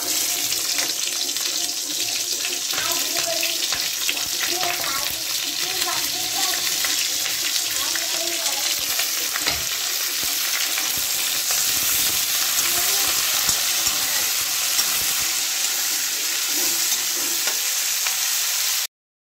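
Onions frying in oil in a kadai, a loud, continuous hissing sizzle with faint stirring clatter underneath, holding steady close up before stopping abruptly.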